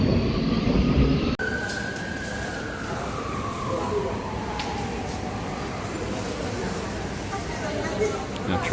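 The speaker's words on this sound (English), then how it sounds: "Just changing trains on the Budapest metro." A Budapest metro train rumbles steadily with a long, gliding whine from the motors as it moves, heard from inside amid constant rail noise.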